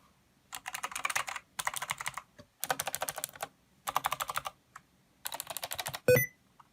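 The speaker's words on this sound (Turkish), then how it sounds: "Şimdi size bir daha tuş seslerini göstereyim." Bursts of rapid, clacking keystrokes on a SteelSeries Apex 5 mechanical keyboard in short rhythmic runs with pauses between, ending on a louder thump.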